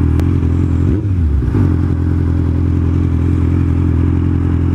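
A 1000cc sport motorcycle rides along loud and close, its engine droning steadily with a brief dip and rise in pitch as it shifts gears partway through, continuing at a constant roar.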